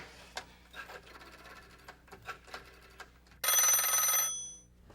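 An electric telephone bell rings once in a sustained loud burst of about a second, following soft tapping and handling noises in a quiet domestic room.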